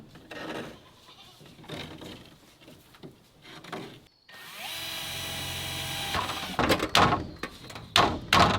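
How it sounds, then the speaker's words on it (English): Power drill boring pilot holes, with a loud sustained whine in the middle of the clip and shorter bursts later, with goats nearby and faint bleats or noises around it. "So right now I'm just going through and drilling all of the pilot holes"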